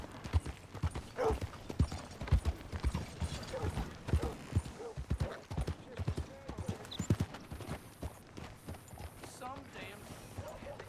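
Horse hooves clip-clop in a steady walking rhythm in the video game Red Dead Redemption 2, clear and fairly close, while someone talks over them.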